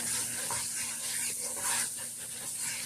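Apple filling toasting in a pan sizzles steadily, with a soft scraping stir running continuously and close, with no talking.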